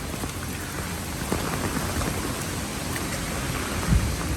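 Steady rain pouring in Pagudpud, a dense continuous hiss of drops on surfaces with a couple of louder thuds, no voices.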